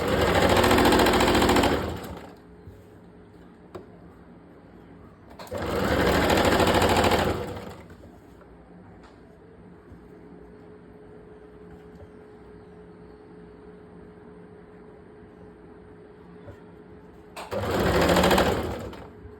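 A sewing machine stitches a georgette shirt in three loud, close bursts of rapid whirring, each about two seconds long, separated by quiet pauses with faint handling noise.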